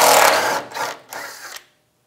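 Power tool with a 13mm socket spinning bolts out of the fuel pump on a 1996-2002 Toyota 4Runner, a close whirring burst followed by a second shorter run before it stops.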